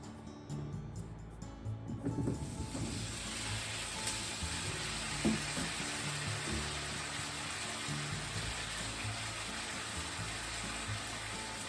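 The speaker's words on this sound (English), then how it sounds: "Let's put the potato and saute them." Potatoes drop into hot oil in a frying pan and a dense, steady sizzle takes over, continuing evenly with a few soft clicks of the pan.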